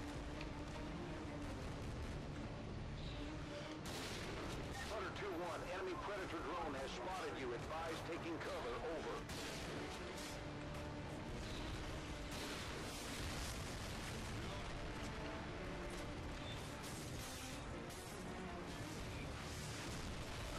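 Continuous gunfire and distant blasts in Spec Ops, steady rattling shots and booms running under frequent talking throughout.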